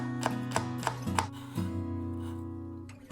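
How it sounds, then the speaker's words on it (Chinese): A knife slices ginger into thin strips on a cutting board, four quick, crisp chops in a row, then a couple more spaced strokes, close and clear with no talking. "准备1块姜切片，再改刀切成姜丝"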